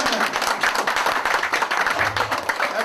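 Audience applause at a political speech, a steady dense wash of many hands clapping for the whole stretch, fairly loud and continuous with no speaking over it.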